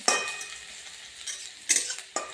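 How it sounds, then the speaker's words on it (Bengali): Garlic is stirred with a utensil in a hot pan of oil with cumin and radhuni spices, for a spinach dish with puti fish. Brisk metallic scrapes and clatters come in separate strokes over a soft, steady sizzle. "রসুনটা একটু নেড়ে চেড়ে"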